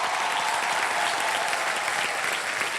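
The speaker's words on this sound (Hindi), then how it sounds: "बहुत जोरदार तालियां" A television game show audience bursts into vigorous applause after a correct answer, a continuous, even roar of clapping held at moderate level throughout, with no voices standing out.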